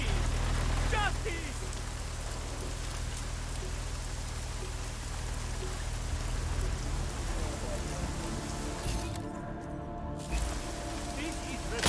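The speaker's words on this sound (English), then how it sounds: "At least get us out of the rain." Steady, dense rain falls in the game Deus Ex: Mankind Divided, a constant hiss under a low rumble that briefly drops out near the end, with a person talking over it.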